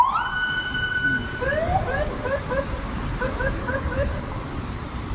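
A police car siren on a Philippine roadway rises in a warbling, yelping wail after about a second and keeps cycling steadily at moderate distance over continuous traffic rumble.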